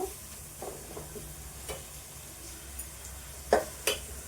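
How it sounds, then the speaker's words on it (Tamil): Tomatoes sautéing in a pan give off a faint, steady sizzle, broken by a few soft stirring clicks and a couple of sharper utensil taps near the end. "தக்காளி கொஞ்சம் வதங்கட்டும்."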